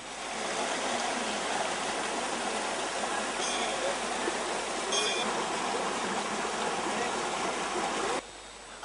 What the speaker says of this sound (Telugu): ఇక్కడ శబ్దం చేసే హక్కు జలపాతానికే ఉంది.